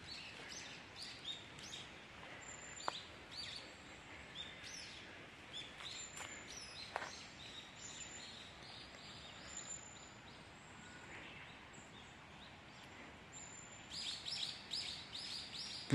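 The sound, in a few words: many birds singing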